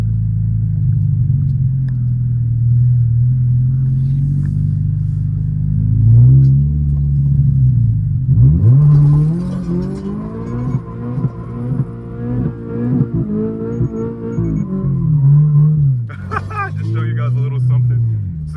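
A 2023 Toyota GR86 Premium idles and then accelerates hard, the engine climbing through rising revs with a gear change before settling, loud and close from inside the cabin, with a person talking over it.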